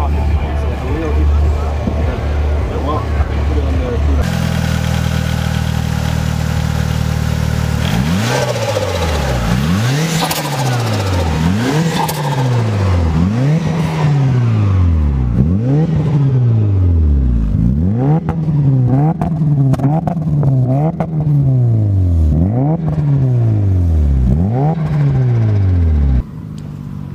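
A 1996 Mitsubishi Evo 4 engine idles, then is blipped repeatedly in a steady rhythm, about a dozen sharp revs rising and falling, loud and close.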